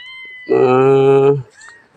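A kitten at a Thai temple gives a single loud, drawn-out meow lasting almost a second, close by, followed by soft faint background noise.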